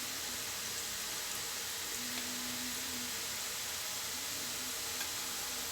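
A steady, fairly quiet sizzle of murukku, a South Indian snack, deep-frying in hot oil, a continuous bubbling hiss with no voices.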